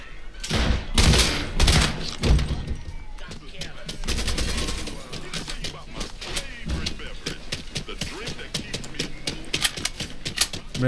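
Rapid gunfire from the Mafia 3 video game crackles in dense bursts and single shots throughout, loud and close, with speech partly heard beneath.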